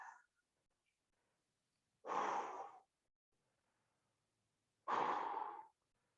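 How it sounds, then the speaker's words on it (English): Two deep breaths, each a long airy inhale-exhale lasting under a second, spaced a few seconds apart with quiet in between, taken during a stretching exercise in a workout session. "Deep breath in."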